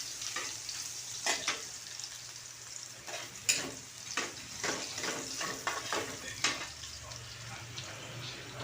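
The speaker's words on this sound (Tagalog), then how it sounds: "Gigisa muna tayo ng bawang mga kabayan." Garlic sizzles softly in a hot pan while being stirred, with repeated scraping and clatter strokes at a fairly quiet, close level.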